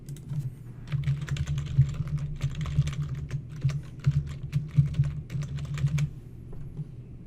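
Login details being typed on a computer keyboard: a steady run of quick, close key clicks lasting about six seconds, then stopping, with no talking.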